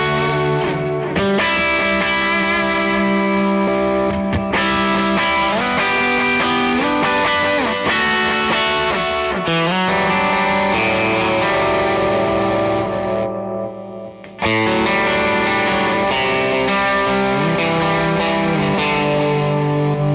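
Electric guitar through a Meris LVX modulation pedal with heavy gain and reverb, chords ringing continuously with a wet, echoing tail and a brief drop in sound near the end.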